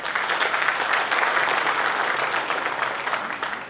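An audience at a company inauguration speech claps steadily, dense applause of many hands filling the hall at an even level from start to finish, with no voice over it.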